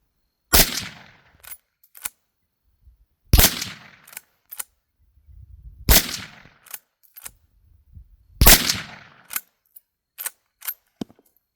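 Four sharp rifle shots from a Winchester 9422M lever-action fired outdoors at a 50-yard silhouette target, each loud crack spaced about two and a half seconds apart, with smaller clicks and clatter of lever cycling between them.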